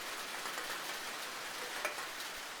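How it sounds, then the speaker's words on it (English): Rain striking metal blocks in Minecraft with the Cool Rain mod, a bright, crackling sizzle of dense drops with occasional sharper pings, constant and fairly close, no talking. "rain on metal blocks"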